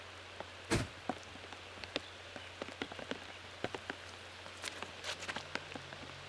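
Light rain falling on an outdoor disc golf course, scattered drops ticking and tapping unevenly over a quiet, faint background hiss with no talking.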